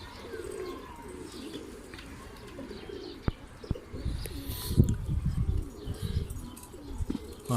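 Low, soft pigeon cooing rumbles through quiet outdoor ambience, with a couple of faint clicks and some wing flutters.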